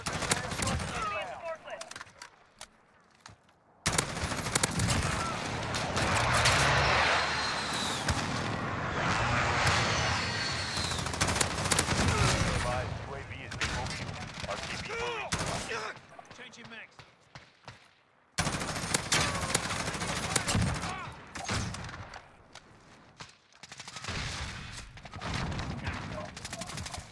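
Rapid automatic gunfire in a shooter video game, dense bursts repeating over nearly half a minute with brief pauses, layered with game sounds and a voice talking over the action.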